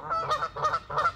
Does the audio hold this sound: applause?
no